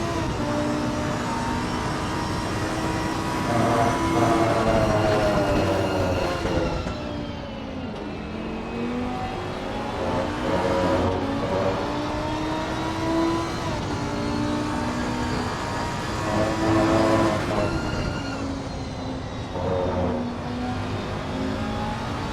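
GT3 race cars, among them a Lamborghini, battling in the Assetto Corsa Competizione sim racing game, engines roaring loudly and continuously with repeated rising and falling revs and gear changes, no commentary audible.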